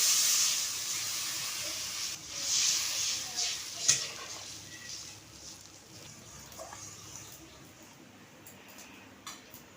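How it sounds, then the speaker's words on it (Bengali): Water poured into a hot frying pan of turmeric and salt for a tilapia poppy-seed curry hisses and steams sharply at first, then fades to a quieter simmer with a few clinks of the pan. "এবার পরিমাণ মতো জল দেবো"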